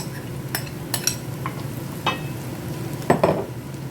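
Chicken mince frying with onions in a pan, a soft steady sizzle broken by a handful of close, scattered scrapes and clicks of a spatula stirring.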